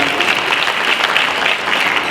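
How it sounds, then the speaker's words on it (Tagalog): A forum audience breaks into steady, full applause, many hands clapping loudly and evenly without pause. "Pwede po ba palakpakan po natin"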